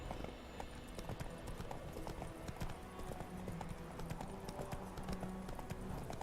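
Roach, the horse in The Witcher 3, trots with rapid clip-clopping hooves, a steady close rhythm of sharp strikes with a faint low musical bed underneath.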